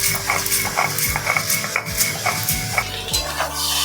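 Vegetables fry in a pan for a leafy greens recipe, with steady sizzling and a rapid series of stirring scrapes against the pan, close and loud.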